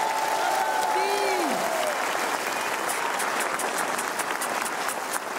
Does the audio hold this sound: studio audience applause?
yes